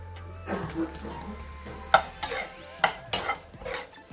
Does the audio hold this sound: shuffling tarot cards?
no